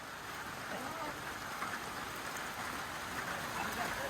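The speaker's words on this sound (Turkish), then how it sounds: "Yağmur da varmış." Steady rain patters evenly on a surface, a constant hiss of falling drops with no breaks.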